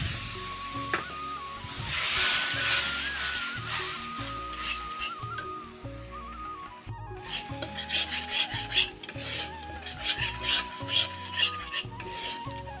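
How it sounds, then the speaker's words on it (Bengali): Spice paste sautéed with a little water for a ridge gourd dish, heard as steady rasping scrapes of a spatula against the pan under a soft sizzle, with music playing throughout. "অল্প জল দিয়ে কষিয়ে নিব মশলাটা।"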